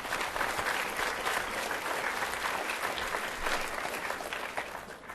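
An audience at a school awards assembly claps steadily for several seconds, the dense applause at moderate volume before it tapers off slightly at the end.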